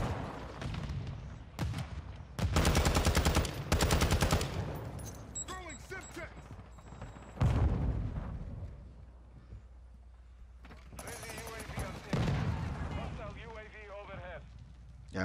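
Gunfire in a video game, with bursts of loud, rapid shots from several shooters in clusters, one early and one late, and quieter stretches between where someone talks over the game.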